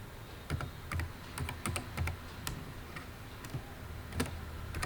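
Typing on a computer keyboard while entering Python code, a run of quick clicky keystrokes in irregular bursts, close and moderately loud with no talking.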